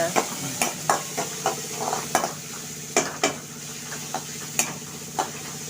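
Tomato sautéing with fenugreek, cumin and mustard seeds in a pan, a steady sizzle under regular spoon scrapes and clinks on the pan, close and fairly loud, no speech.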